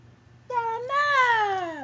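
A pet cat gives one long, close meow that rises and then slowly falls in pitch, with a brief lead-in and no talking.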